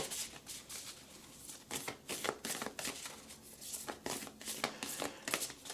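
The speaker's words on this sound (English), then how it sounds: "We are throwing a Lover's Oracle card. So let's go ahead and shuffle." A deck of Lover's Oracle cards is shuffled by hand, giving quiet, rapid riffling bursts and soft flutters in uneven clusters, close by with no talking.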